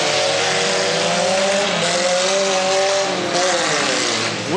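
Race cars lap a track during a race, their engines a loud, steady roar close by, with pitch rising and falling as they pass, and no talking.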